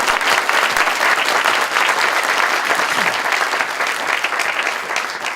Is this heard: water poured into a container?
no